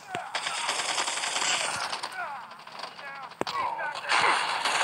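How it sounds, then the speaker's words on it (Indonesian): Rapid gunfire in the mobile shooter game Call of Duty Mobile, continuous automatic bursts with sharp individual shots cutting through dense battle noise and game effects. "Kita tembak, bayangkan kalau kita di dunia asli nembak temannya."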